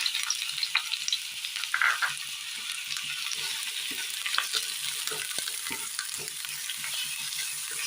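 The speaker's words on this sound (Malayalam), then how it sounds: "എണ്ണയിലേക്ക് അരിഞ്ഞു വെച്ചിരിക്കുന്ന സബോള ചേർത്ത് കൊടുക്കാം." Sliced medium onion, cut thin and long for biryani, sizzles steadily in coconut oil in a pan, a continuous bright crackling hiss with occasional stirring scrapes and pops, close and alone without voices.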